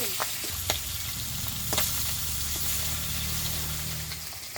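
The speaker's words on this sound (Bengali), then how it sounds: "সবাই বলে যে মাছে নাকি কাঁচা তেল মাখিয়ে রাখলে একটু কম ফাটে, ওই জন্য একটু মনে হয় কম কম ফাটছে।" Large pangas fish pieces fry in hot oil with a steady low sizzle and occasional sharp pops and spatters, heard from a slight distance without talk.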